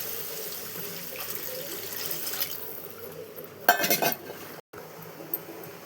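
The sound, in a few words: water being poured into cooking pot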